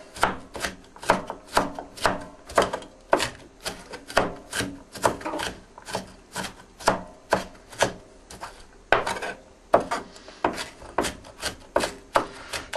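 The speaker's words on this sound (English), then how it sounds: "the next thing I got to do is chop up some onions" Raw onions are chopped with an ulu knife in a wooden bowl board, a rapid, regular run of crisp, close thuds, roughly two per second, that keeps going without pause and with no one talking.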